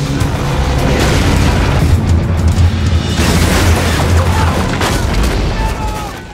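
Military helicopters bombard a site in an action film, producing a continuous heavy, booming explosive rumble that stays loud for several seconds before easing slightly at the end.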